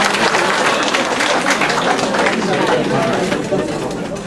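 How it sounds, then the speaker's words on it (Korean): A lecture audience applauds one another in a dense, continuous wash of clapping that stays loud and even for a few seconds. "자, 서로를 위해서 박수."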